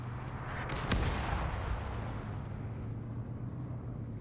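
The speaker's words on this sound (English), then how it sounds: "Op4's artillery is now firing on Blue 4." In a large multiplayer PvP match, a video-game artillery tank fires a single heavy boom, followed by a long, dense rumbling roar that slowly fades.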